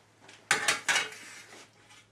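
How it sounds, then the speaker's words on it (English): Dr. Pepper braising juice spooned over pork on plates gives a few sharp clinks of spoon against dish, three quick knocks close by, then a soft scrape fading out, with no talk. "Get a little bit of the juice, the remaining Dr. Pepper juice. And just spoon it on top of the pork."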